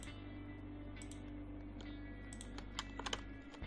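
Scattered computer keyboard key presses tap sparsely over a steady low hum, a few quick clicks clustered near the end, with no talking.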